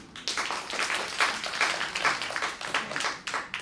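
An audience applauds a band with a steady patter of hand claps that lasts throughout, moderately loud and unaccompanied by talk.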